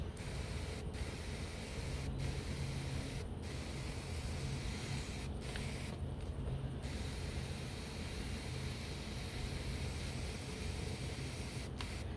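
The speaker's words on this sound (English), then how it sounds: "now I'm gonna spray it or give some water" Water spraying onto garden plants on a hot summer day: a steady, continuous hiss of spray held at an even level, punctuated by a few brief breaks and dips, with no voices.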